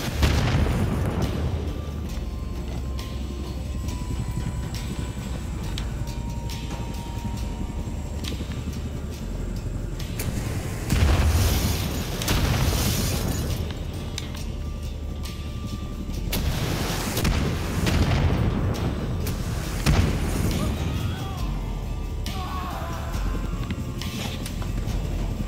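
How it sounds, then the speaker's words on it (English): Rocket explosions and gunfire in the shooter game Wolfenstein: The New Order, several heavy booms bursting out of a continuous rumbling battle din, recurring at irregular intervals over about twenty-five seconds. "You're not the one getting shot at with rockets."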